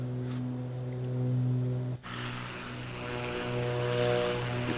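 Beechcraft Baron twin propeller engines drone through a climb in Microsoft Flight Simulator 2024, a steady loud harmonic hum with a brief dip midway before the engine tone returns fuller, no speech.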